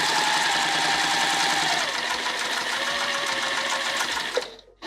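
A sewing machine stitches a seam at a 3mm stitch length, a steady rapid mechanical whir with regular needle clatter, close and loud, slowing and stopping near the end.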